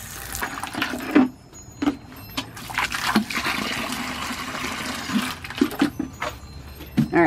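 Hot water pours from a tap into a watering can, a steady rushing splash with a few brief knocks and pauses, moderately loud and close.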